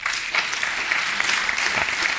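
An audience at a live public question-and-answer event breaks into steady applause for soldiers, a dense, even clapping from a crowd in a hall, sustained without a break.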